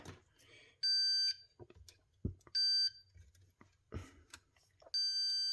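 A multimeter gives three short, high-pitched continuity beeps, spaced a couple of seconds apart amid faint clicks and handling noise.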